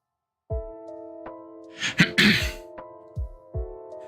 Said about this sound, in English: Sorry if I'm clearing my throat too much.